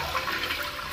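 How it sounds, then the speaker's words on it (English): A commercial flushometer toilet runs constantly, giving a steady, loud rush of water that holds without pause for the whole second. "this toilet is just constantly flushing"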